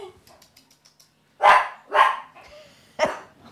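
Several loud, close dog barks, a Yorkie terrier among them, burst out in a quick irregular sequence after some faint clicks and rustles, alerting as if at a rat.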